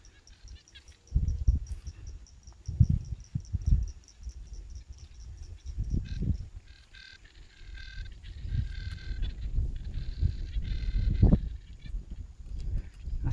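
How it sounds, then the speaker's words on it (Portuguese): Small tree frogs calling at a farm pond during rain, a faint repeated trilling chorus in pulsed bursts over low rumbling handling noise and splashes, with ducks bathing nearby. "As pererequinhas cantando."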